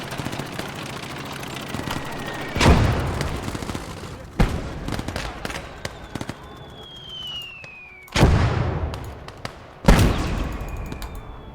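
Mortar fire on a battlefield: four heavy, sharp blasts ring out at intervals over a constant din of distant gunfire, with a whistling tone sweeping down between them.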